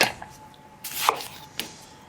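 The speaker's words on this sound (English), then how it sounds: "I'm going to roughly chop them and just pop them in to my blender" Fresh tomatoes are roughly chopped with a knife for a chicken tikka masala, giving a few quick, soft cuts against a board, faint and close with no talking.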